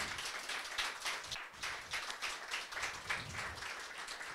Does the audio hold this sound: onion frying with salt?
no